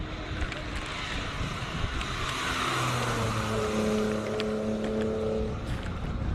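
A BMW E90 race car climbs a mountain hill climb course under acceleration, its engine note rising steadily through gears over broad wind and road roar, fairly close and sustained throughout.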